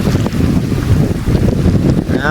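Strong wind blows over the sea at Nakai, roaring loudly and steadily into the microphone with a rumbling gust texture and surf-like wash throughout.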